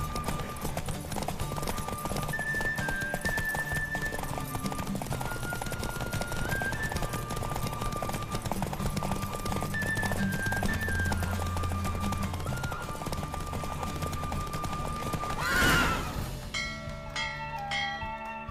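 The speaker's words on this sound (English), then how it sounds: "Don't spare the horse!" Steady, rapid hoofbeats of a galloping horse in a race in The Witcher 3 clip-clopping throughout alongside a bright melodic tune, ending with a sharp flourish near the close.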